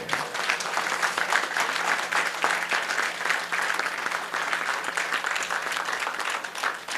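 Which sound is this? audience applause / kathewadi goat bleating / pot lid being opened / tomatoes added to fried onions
audience applause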